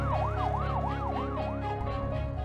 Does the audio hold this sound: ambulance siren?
yes